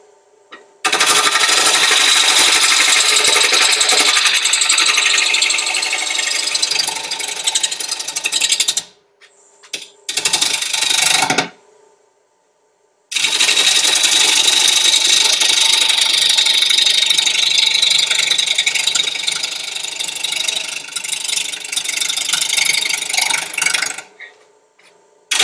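A wood lathe turns an oblong, football-shaped roughed-out bowl blank that wobbles as it spins. A loud, steady cutting and scraping roar runs throughout, broken by two short pauses near the middle, with no talking.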